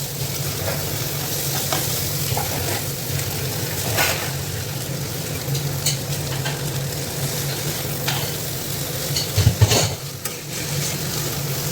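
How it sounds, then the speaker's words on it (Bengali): Vegetables for chowmein fry over a high flame with a loud, continuous sizzle, mixed with stirring scrapes and a few louder clatters from the pan near the end, and no talking. "তো সব কিছু দিয়ে ভালো করে নাড়াচাড়া করে নিচ্ছি"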